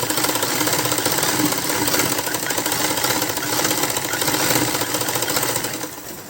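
A sewing machine runs steadily and loudly while stitching a baby frock, its rapid needle chatter continuing for several seconds close up before easing slightly at the end.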